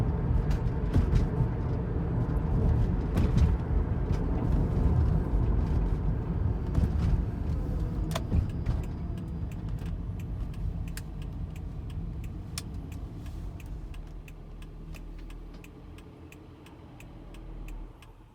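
A 2009 Toyota Prius with 425,000 miles drives along, its low, steady road and motor rumble close and continuous, with faint ticks and rattles over it and a slight easing toward the end.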